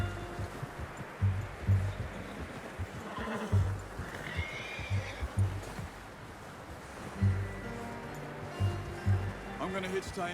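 A horse in the Red Dead Redemption 2 video game, with hooves clip-clopping and occasional snorts or whinnies. Beneath it runs a steady background wash, and people talk in French and English at moderate volume throughout.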